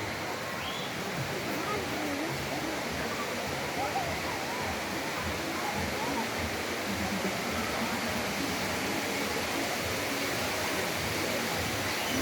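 Bisheh waterfall sends a steady, broadband rush of falling water, constant and moderately loud, with no pauses or voices over it.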